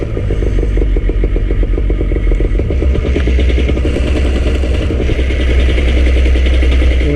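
The small engine of a paramotor trike starts and runs close by. It is a loud, steady, rapidly pulsing clatter that continues without a break and no one talks over it.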